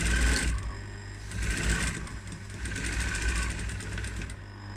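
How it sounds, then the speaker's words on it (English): A sewing machine stitches through seam allowance to encase metal boning in a dress, giving a steady fast mechanical whirring and clatter that runs near and continuous, rising and easing slightly in speed. "So I'm going to sew in about 1 centimeter down from the edge."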